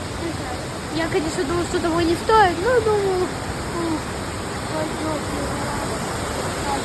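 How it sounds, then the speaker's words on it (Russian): A forest waterfall rushes in a constant broadband hiss throughout, with someone talking over it for the first few seconds, his voice close above the steady water. "Сегодня я у водопада."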